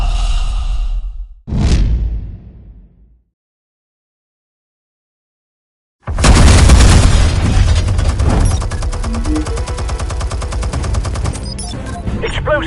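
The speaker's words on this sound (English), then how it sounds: "Explosives armed. Fire when ready." Explosives detonate in Batman: The Telltale Series: after a brief breathy sound and a sharp whoosh, silence falls, then a loud blast erupts and rolls into sustained rumbling, crackling debris and gunfire-like bursts.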